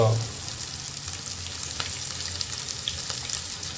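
Onion frying with whole spices in a pan for a Punjabi chicken curry gives a steady, close sizzle that holds evenly throughout, with a brief clatter at the start and no talking.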